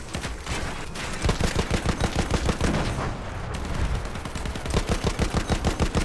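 Automatic gunfire from Battlefield 1 hammers in rapid, evenly spaced bursts, loud and close, running almost continuously with brief pauses between volleys.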